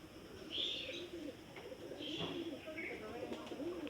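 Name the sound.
pigeons cooing over a shrine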